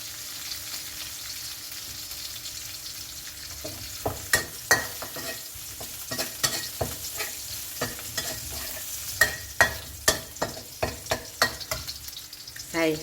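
Mixed vegetables with fish balls and glass noodles are stir-fried in a pan over a low sizzle, with a run of sharp utensil scrapes and clacks against the pan starting partway through and repeating in an uneven rhythm.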